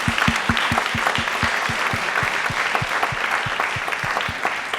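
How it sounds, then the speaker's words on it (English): An audience at a psychology lecture claps steadily, dense applause with some sharp individual hand claps standing out near the front, sustained and fairly loud for the full stretch without talk. "Can I get an applause?"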